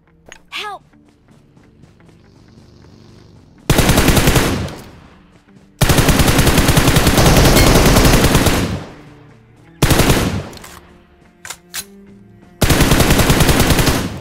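Gunfire in the PUBG Mobile battle royale game, loud bursts of rapid automatic shots in several long volleys separated by brief pauses, with a few single shots between them.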